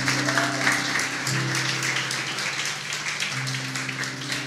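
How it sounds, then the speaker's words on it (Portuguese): Church congregation applauding during worship, a steady wash of many hands clapping over sustained organ or keyboard chords, with scattered voices in the room. "Aplauda ao Senhor."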